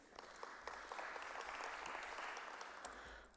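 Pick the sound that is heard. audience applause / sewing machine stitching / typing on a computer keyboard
audience applause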